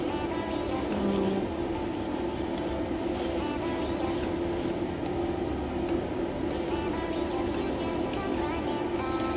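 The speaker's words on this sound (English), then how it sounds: "will switch to a little bit sharper file, and this is 150 grit file" A 150 grit file is worked steadily across a sculpted square nail extension, producing a continuous close rasping scrape with rhythmic strokes and no speech.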